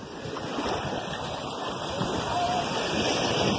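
Steady rushing surf of sea waves, broadband and continuous, building slightly louder toward the end, with no voices.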